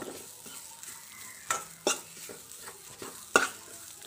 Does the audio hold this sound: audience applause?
no